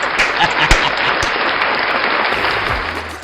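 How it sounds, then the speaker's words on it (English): A seminar audience breaks into a round of applause, dense loud clapping sustained throughout with a few sharp individual claps standing out near the front. "Round of applause."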